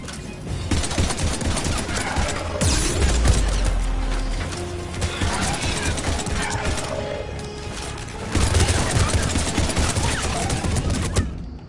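Sustained gunfire from Mass Effect 3 on PS5 rattles through a busy battle mix, with dense rapid shots, low rumbling impacts and swelling bursts continuing throughout, loud and close.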